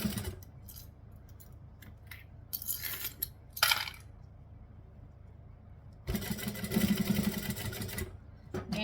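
A sewing machine stitches through nylon zipper tape in short whirring bursts with small clicks and pauses between them. A longer, louder run of stitching comes near the end.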